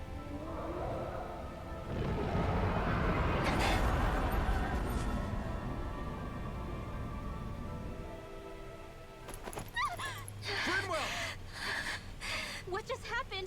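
A female character in the game Tales of Arise gasping and breathing heavily, loud ragged breaths that swell and continue for several seconds, later joined by a voice talking with game sounds.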